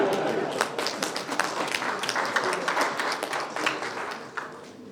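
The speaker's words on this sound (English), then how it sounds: "you have to clap much more." An audience at a newspaper launch event claps, dense irregular applause from many hands filling the room, loud and close, gradually easing toward the end.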